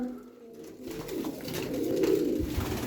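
Pigeons cooing close by in a loft, with a low, soft, rolling coo that swells and fades over a couple of seconds and no voices.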